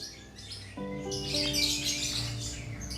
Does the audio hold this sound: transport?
no